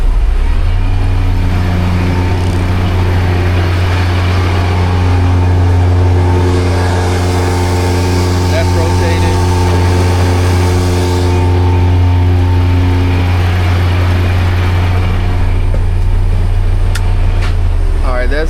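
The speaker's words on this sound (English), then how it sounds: "I'm gonna test my PTO system." A dry bulk hazmat truck's engine runs steadily with its PTO engaged, a loud, constant low idle hum with a whirring layer rising in the middle, while someone talks over it.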